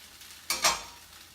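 Mushrooms drop into a hot pan of fajita vegetables and chicken, giving a short, close burst of sizzling and stirring that swells and then fades back to a quiet kitchen.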